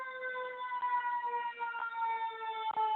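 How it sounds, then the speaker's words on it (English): An ambulance siren wails steadily as the vehicle passes by outside, its tone bending slightly as it moves, fairly loud and sustained with no talk over it. "I'm going to let this ambulance go by."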